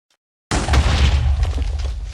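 After a short silence, a sudden loud explosion in Minecraft booms and rolls into a deep rumbling crackle that slowly fades.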